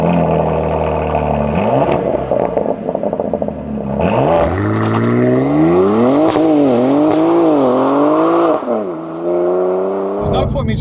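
A BMW G87 M2 fitted with a Miltech exhaust, revved hard up close: loud engine pitch climbing and falling through several blips, with a sharp crackle near the end.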